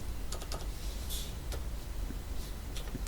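Someone types a colour code on a computer keyboard and presses enter, a few quick, faint close clicks over a low steady background, with no talking.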